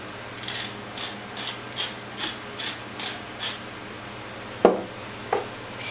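A handheld grinder twists salt and pepper over a grilled chicken Cobb salad in a run of about eight evenly spaced ratcheting clicks, close and crisp, followed by two sharper knocks.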